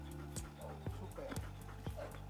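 A female dog whimpering during a training session, soft repeated whines and yips close by over a low background hum.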